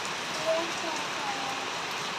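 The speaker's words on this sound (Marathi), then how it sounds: "परत पाऊस आला." Steady hiss of rain falling, constant and fairly close, with no clear voices.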